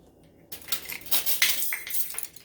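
The top of a plastic ground black pepper container is pulled off, making a close, quiet run of crinkly scrapes, clicks and small snaps over about two seconds.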